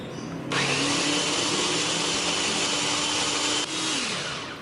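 An electric chopper whirs as it grinds spice paste with a little water for a home-cooked dish, a loud, steady motor roar that starts abruptly, runs about three seconds and then winds down, with no talking.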